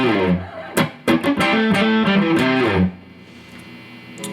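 An electric guitar with distortion plays a riff in a quick burst of picked and slid notes over about three seconds, loud and close, then rings out and fades.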